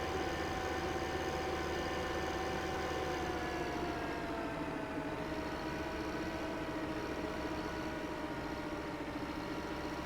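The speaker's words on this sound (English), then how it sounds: "Yeah, this is a fast tractor." Tractor engine in Farming Simulator 15 running at a steady high drone, its pitch gliding slightly lower midway, continuous and close with no talk over it.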